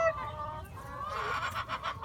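Chickens clucking at a family farm, a cluster of close, scratchy hen calls over low background noise.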